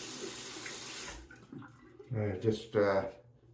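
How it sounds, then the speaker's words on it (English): Running tap water hisses steadily as a razor is wet at the sink before a shave with a travel shaving kit, then the flow breaks off and a voice follows briefly, close by. "Just wet the razor there."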